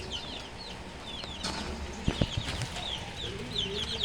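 A fighting rooster clucks softly while being fed, short close clucks mixed with chirping from other birds in the background.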